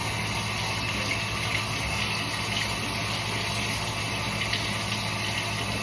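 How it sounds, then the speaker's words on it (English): Running water streams steadily from a tap while a container is rinsed out during coffee cleanup, a loud, continuous, even gush that stays close for the whole stretch with no talking. "Let's rinse this out."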